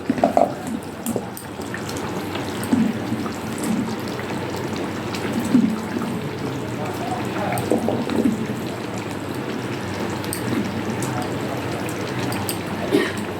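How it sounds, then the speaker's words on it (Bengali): Fish pieces going into a pot of boiled potatoes for a Bengali macher jhol: soft watery splashes and bubbling, with a few brief plops scattered through, steady and close, with no clear talk. "এবার আমি এর মধ্যে দিয়ে দেবো এই মাছের পিসগুলো।"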